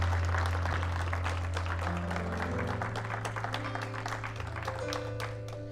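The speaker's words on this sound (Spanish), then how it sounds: "levante sus manos y dele un fuerte aplauso al Padre" A church congregation at an evening service applauds with scattered, fairly soft clapping under sustained electronic keyboard chords that hold and shift through the passage.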